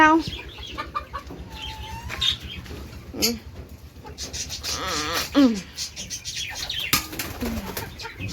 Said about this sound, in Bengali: খুব ভালো খায় মুরগিগুলো